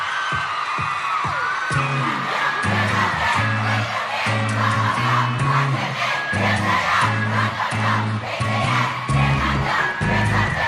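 A large crowd cheers and screams continuously over loud K-pop music with a heavy beat as a group performs its US TV debut, the roar sustained throughout.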